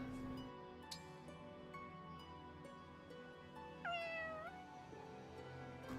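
A cat in the video game Fire Emblem Engage gives one clear, drawn-out meow over a quiet, steady musical background with soft ticking.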